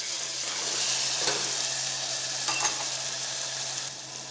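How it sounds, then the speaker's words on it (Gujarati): Chopped onions sautéing with ginger, chilli and crushed garlic in a pan, giving a steady, soft sizzle with a couple of light stirring scrapes, fading slightly at the end. "કાંદાને આપણે 2 મિનિટ સાંતળી લઈશું।"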